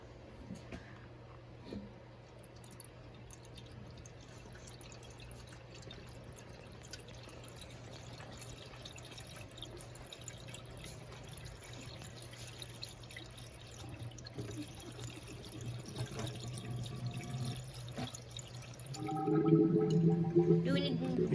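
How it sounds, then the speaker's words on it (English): Coolant poured from a jug into the radiator of a 1966 Mustang gives a soft, steady liquid trickle that grows louder and gurgles near the end, with talk around it. "We're gonna put the coolant back in now."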